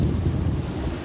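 A pilot motor boat under way on open water near tugboat TB. Pancaran 711, with a loud, steady roar of engine, wind and water rushing close to the microphone.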